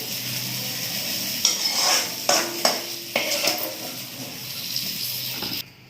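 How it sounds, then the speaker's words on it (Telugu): Green chillies frying in a pan for a paneer curry, a constant close sizzle with several clattering stirs of a utensil against the pan in the middle, cutting off abruptly at the end. "పచ్చిమిర్చి కూడా వేసి వేపుకుందామండి"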